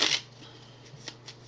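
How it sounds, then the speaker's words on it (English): A deck of cards for the board game Onirim being shuffled, a brief crisp riffle burst at the start followed by a few faint soft card taps, close and quiet. "So shuffle it up"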